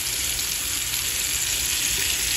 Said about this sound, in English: I'm just searing my meat